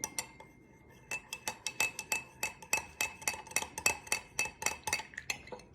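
A metal spoon stirs turmeric tea inside a glass, giving a steady run of about a dozen bright, close clinks at a regular stirring rhythm after a short quiet start.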